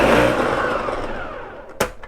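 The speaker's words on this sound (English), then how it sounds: "We're adding half a cup of water, which is why you don't need to squeeze the water out. And we're blending it for 1 minute." A Ninja blender whirs through parsley puree with half a cup of water. The loud motor whine fades gradually, and a sharp click comes near the end.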